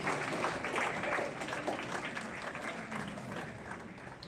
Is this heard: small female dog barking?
no